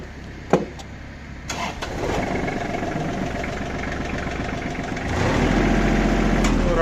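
A Kubota GL21 mini tractor engine cranks and catches, then settles into a steady, loud diesel idle that grows slightly stronger toward the end.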